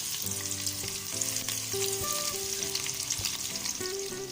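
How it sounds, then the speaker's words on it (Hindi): Steady frying sizzle of onions in a pan throughout, with crackling spatter over a background of instrumental music. "प्याज को हम थोड़ा सा फ्राई करेंगे।"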